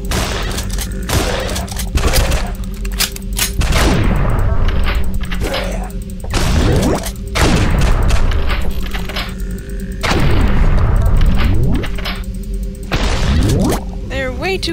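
Shotgun blasts in a video game ring out in repeated loud bursts, several booming shots with decaying tails and rattling follow-up, spaced a second or two apart over a constant noisy background.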